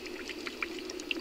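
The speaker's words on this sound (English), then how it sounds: "And you can see the bubbles coming up right there?" Gas bubbles rise and pop in swamp water by a Louisiana sinkhole, a soft stream of small gurgles and blips at irregular intervals over a low steady hum, close and faint.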